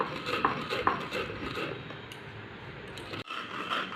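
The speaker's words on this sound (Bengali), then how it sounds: "এই যে এইভাবে সমস্ত চালগুলো আমি বেটে নেব শিলে" Dry-roasted rice is ground by hand on a stone shil, a steady gritty scraping and rubbing with occasional sharper clicks of stone on stone, close and continuous.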